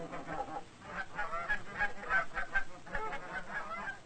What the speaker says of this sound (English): Even the ducks seem to know when their feeding time is at hand.